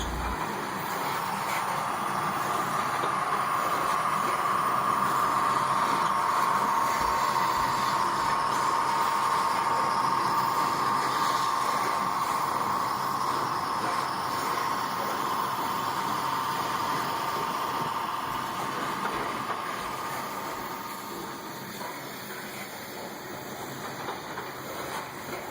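An HO scale model coal train hauling live coal loads, pushed by helper engines on the rear, rolls by as a steady, continuous whirring rumble that fades slightly near the end, with no talking.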